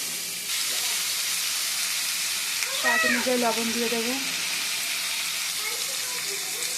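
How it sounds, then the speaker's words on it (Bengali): Potatoes and pumpkin fry in oil with a steady, close sizzle and hiss throughout, while someone speaks over it partway through. "এবার এটাকে শুধু তেলের উপরে ভাজবো ভালো করে।"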